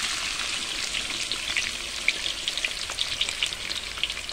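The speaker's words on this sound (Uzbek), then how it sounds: "yog'ga endi 1 kilo piyozni solamiz." Diced onions, a full kilo, sizzle and crackle steadily in hot oil for laghman, a dense close frying hiss with small pops throughout and no voices.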